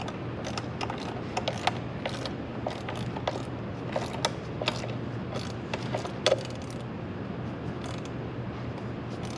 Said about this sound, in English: So you tighten this bolt down here